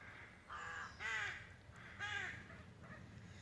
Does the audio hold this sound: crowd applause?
no